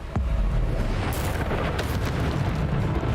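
The Bombarda explosion spell in Hogwarts Legacy going off, a dense, continuous roar of blasts and crackling bursts, loud and sustained throughout.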